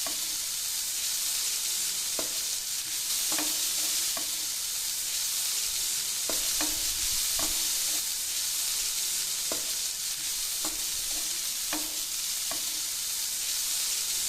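Chicken wrap filling is stirred with sauce in a pan over high flame, giving a steady loud sizzle with repeated scraping strokes of a spatula throughout and no one speaking.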